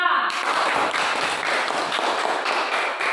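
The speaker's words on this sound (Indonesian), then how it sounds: "tepuk tangan untuk kelompok 2" Applause for a student group after its presentation in a classroom, a dense, steady burst of many hands clapping together for about three seconds, loud and close throughout.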